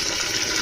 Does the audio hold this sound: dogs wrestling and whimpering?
no